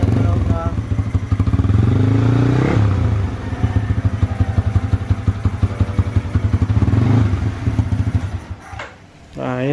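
A Yamaha Sniper 150 motorcycle engine idles and revs up close, rising in pitch twice, with mechanical clatter throughout, then a sharp blip near the end as it cuts back.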